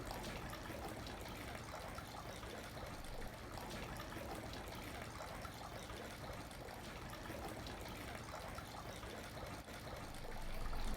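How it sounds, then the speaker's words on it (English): Water trickling and pouring steadily off a wooden ladle handle at a Shinto shrine purification basin, a soft continuous splash with no voices. "Let the rest of water flow down the handle of the ladle"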